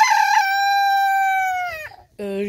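A pet rooster named Mo crows close and loud: one long, drawn-out cock-a-doodle-doo that slides downward at its end, followed after a short gap by a brief second call.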